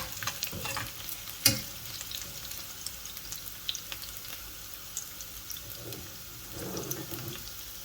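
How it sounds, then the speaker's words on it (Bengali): Garlic frying in a pan for a dried shrimp bharta sizzles steadily up close, with stirring scrapes and a sharp clink of a utensil against the pan. "আস্তে আস্তে রসুন বাজা বাজা হয়ে গেছে"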